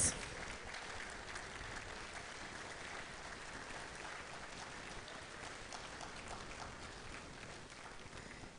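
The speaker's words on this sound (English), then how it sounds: "give them a resounding round of applause for their service" A school audience gives its class reps a round of applause, a steady, fairly distant wash of clapping that continues evenly throughout.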